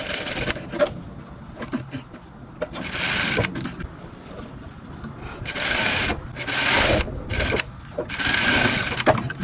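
A domestic sewing machine stitches dance-dress fabric over gathered ruffles. It runs in loud, steady mechanical bursts with short pauses between runs, close up and without talk.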